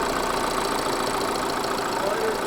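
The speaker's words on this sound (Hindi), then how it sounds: "जो है ये है डीजल इंजन" A steady mid-pitched diesel engine idle from a 2023 Tata Harrier hums continuously at an even level, close by, with no voices over it.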